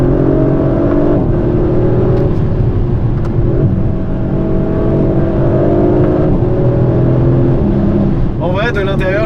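Engine and sport exhaust of a 2023 Audi RS5 Competition Plus, a steady loud drone with rising revs that runs through the whole stretch, with a brief higher whine near the end.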